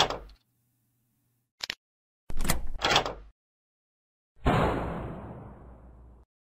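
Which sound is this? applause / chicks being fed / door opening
door opening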